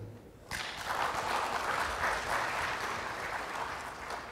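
Audience applause at the launch event for a creative financing hub for transport infrastructure. It breaks out suddenly after a near-silent start and holds as a steady, dense wash of clapping through to the end.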